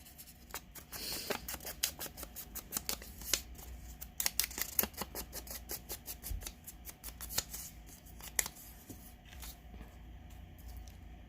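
A junk mail paper envelope being torn by hand, quiet close crackling rips and rustles in irregular bursts, with no talking.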